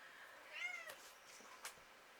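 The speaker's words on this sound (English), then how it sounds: "My cat's over here just purring at everything, or meowing at everything." A house cat meows once in a rising, drawn-out cry, fairly faint and indoors, followed by a couple of small clicks and rustles, with no talking.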